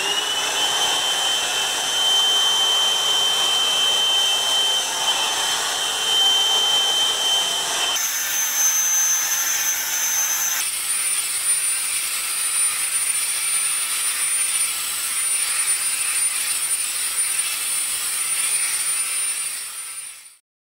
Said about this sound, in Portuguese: E vou ligar agora pra poder usar.